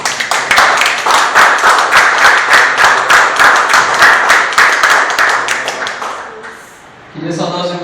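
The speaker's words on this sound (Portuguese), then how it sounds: "Vamos receber o irmão Cristo com palmas para Jesus." Church congregation clapping to welcome a preacher, loud rhythmic claps in a steady beat that fade out, followed by a voice starting to speak.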